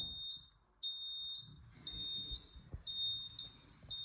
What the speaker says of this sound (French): Donc là, on est en alarme.